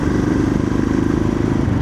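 Motorcycle chain rattling against its chain cover, a fast, steady clattering pulse over the running engine, close and loud.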